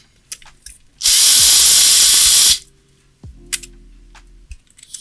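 A powered Phillips screwdriver driving screws into a MyCloud drive casing; a loud, steady motor whine runs for about a second and a half, followed by a lower, shorter whir and scattered clicks and handling noises.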